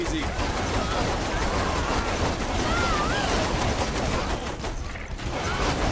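Pistol fire in Saints Row: The Third comes as rapid repeated shots over dense game noise and action, a steady crackle of gunfire lasting the whole stretch.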